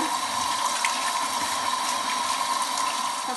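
Tap water runs steadily and noisily over red beans being rinsed in a metal sieve, a continuous close splashing gush throughout.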